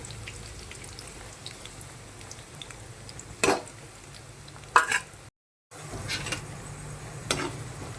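Onions fry in a little hot oil for an egg curry, a soft, low sizzle with a few loud spoon clatters and stirring scrapes, briefly cut out near the middle.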